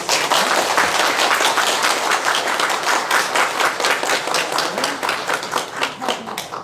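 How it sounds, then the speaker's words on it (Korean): Church congregation clapping in welcome during a Sunday worship service, a steady, fairly loud patter of many hands sustained through the whole stretch without pause. "전사님 인사하실 때 먼저 박수로 환영하겠습니다."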